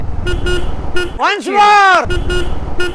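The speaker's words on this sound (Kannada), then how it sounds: "ಹಾರನ್ ಕೂಡ ಅಷ್ಟೇ ಸಿಕ್ಕಾಪಟ್ಟೆ ಲೌಡ್ ಆಗಿ ಕೊಟ್ಟಿದ್ದಾರೆ ಈ ಗಾಡಿಯಲ್ಲಿ" A loud Royal Enfield Hunter 350 motorcycle horn beeps with shifting pitch over the running engine, preceded and followed by short repeated beeps.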